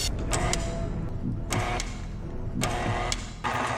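Electric stand mixer churning thick chocolate Oreo cookie dough, a steady loud mechanical whir with rhythmic clicking bursts recurring about every second, close and continuous with no talking.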